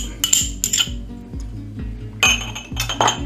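A spoon clinks and scrapes three tablespoons of reduced-sugar, reduced-salt tomato ketchup into a pan for sweet and sour sauce: a handful of sharp metallic taps over a steady music bed.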